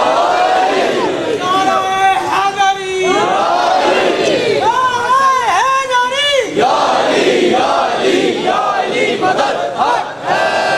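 A crowd at a Muharram gathering chants a slogan in unison, loud rising and falling voiced calls repeated in waves, with a lead voice and many voices joining together.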